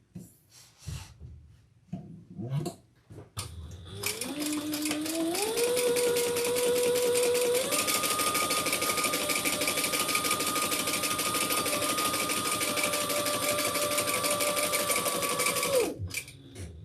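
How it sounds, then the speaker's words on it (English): A sewing machine top-stitches a crossbody handbag, starting up after a few handling clicks, running steadily and loudly with a rising then constant whirring rhythm for about twelve seconds before stopping. "So now let's turn it and top stitch on either side."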